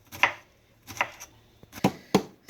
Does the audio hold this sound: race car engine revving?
no